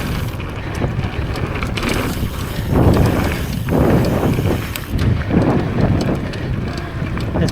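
Wind buffeting the microphone during a mountain bike ride on a trail in Bentonville, Arkansas, a loud constant rumble with gusting surges and tire noise underneath.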